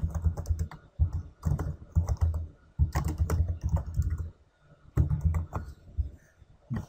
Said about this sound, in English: and you can type